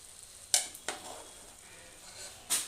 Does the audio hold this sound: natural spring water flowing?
no